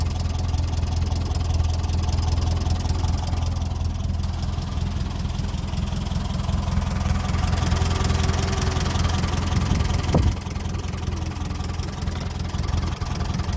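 A 1957 Ferguson 35 TVO tractor engine idles steadily with a low, even rumble throughout, close and continuous, with a brief clunk near the end.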